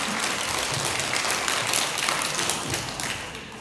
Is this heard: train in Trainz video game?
no